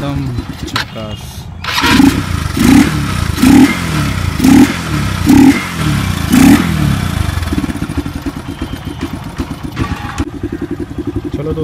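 Honda Twister motorcycle fitted with a KTM-style aftermarket exhaust, revved in about six quick throttle blips over a loud, throaty idle that settles back to a steady chug, heard up close.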